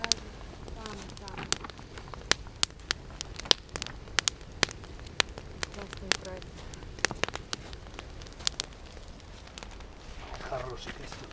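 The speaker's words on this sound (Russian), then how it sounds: "Хороший костер получился." Campfire crackling in a rainy forest, built from a single match, with frequent sharp pops and snaps scattered over a steady hiss; people talk nearby.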